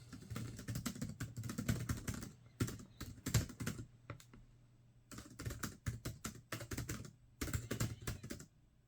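Rapid clicking of the keys on a cheap GeoBook laptop, whose loud, flimsy keyboard flexes under typing, in bursts with short pauses, fairly close and moderately loud, no voices.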